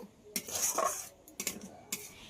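Onion-tomato paste with green chilies being sautéed in a pan, heard as a few scraping, clinking spatula-on-metal strokes in separate bursts, fairly quiet and close, with no talking.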